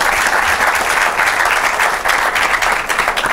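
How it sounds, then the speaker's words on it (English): Steady, loud applause from a school quiz competition audience welcoming St Augustine's College team, many hands clapping continuously and close without a break. "A round of applause for them."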